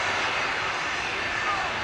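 A Cathay Pacific Airbus A350 jet taxis toward the runway at Manchester Airport, its engines giving a steady, loud broadband roar with a faint rising whine, while a voice talks over it.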